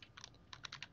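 A burst of quick keystrokes clatters on a computer keyboard, close up and fairly quiet, with about half a dozen clicks in under a second.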